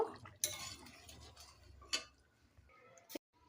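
Bengali brigade fish curry with ground garam masala gets stirred in a pot, a few sparse clinks and scrapes of a utensil against metal separated by quiet pauses, faint and close, without speech.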